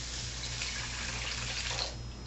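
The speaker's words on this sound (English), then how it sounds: "just going to pour a bunch of cold water" Cold water is poured steadily into a container to make sugar milk, a short continuous splashing stream heard close by with no talk.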